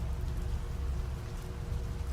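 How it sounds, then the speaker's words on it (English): Gentle rain falls steadily on a surface, a soft continuous patter with a low rumble underneath, no voices present. "Tonight, the rain was gentle and easy to listen to, along with gentle thunder off in the distance."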